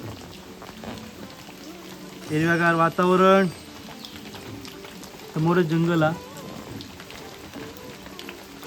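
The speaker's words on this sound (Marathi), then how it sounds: "हा पाऊस सुंदर पडता आणि हा बघा मस्त पाऊस" Steady rain patters in the background throughout, while a person speaks over it in two short bursts.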